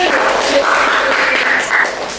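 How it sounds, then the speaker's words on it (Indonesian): Steady applause from a podcast studio audience fills the space as a dense, continuous patter of clapping, loud and close, with a voice speaking faintly underneath. "Tepuk tangan itu teman-teman."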